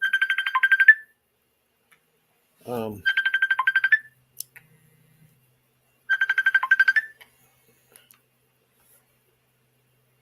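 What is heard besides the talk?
phone ringtone from an incoming call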